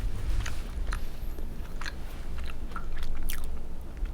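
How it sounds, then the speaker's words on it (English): Crunchy biting and chewing of a small button candy made from almond, sugar and flour, in Saint Emilion, France: several close, crisp crunches in a steady rhythm without talk. "You hear that little crunch?"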